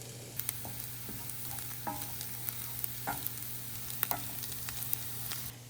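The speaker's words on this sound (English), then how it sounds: "The onions are perfectly browned" Onions browning in a frying pan for a steak and whiskey cream sauce dish: a faint, steady sizzle with occasional light utensil taps and scrapes, no one talking.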